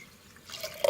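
Water trickles and drips, growing into a short pour of four to five glasses into a cooking pot of chana and masoor daal near the end; brief and close, no voices.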